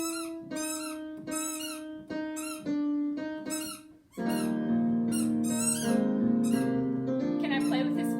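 A dog's squeaky toy squeaks in a run of sharp, pitched, evenly spaced squeals. Thicker, overlapping tones then build up and continue loud to the end.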